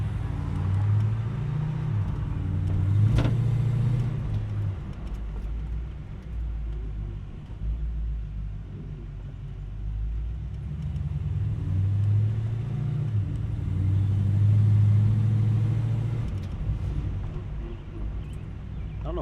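A car engine drones low while driving, its pitch sagging and labouring in places as it bogs down in second or third gear, with steady road rumble throughout.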